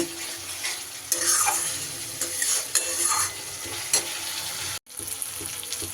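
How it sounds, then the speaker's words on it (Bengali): Spice masala for a dhaba-style egg curry frying in oil over medium heat, a steady sizzle broken by scraping strokes of a spoon stirring the pan, close and fairly loud, with one brief break near the end. "মশলাটাকে সুন্দর করে আমি কষে নেব"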